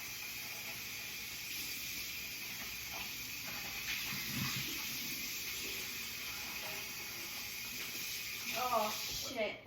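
Water runs steadily over a pan after cooking meat, a continuous broadband hiss with a few knocks and splashes near the end as the pan is tilted.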